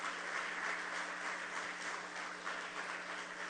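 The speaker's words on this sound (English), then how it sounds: "And I think that deserves a round of applause." A crowd applauding at a public political meeting, a steady, even wash of clapping that holds at the same level throughout, with no voices rising above it.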